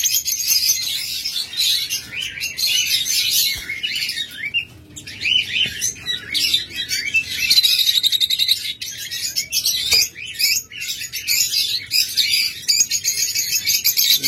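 A pair of lovebirds chirps and squawks constantly at close range, with rapid high tweets overlapping in a busy, unbroken chatter.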